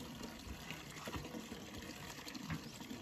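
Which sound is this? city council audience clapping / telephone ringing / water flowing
water flowing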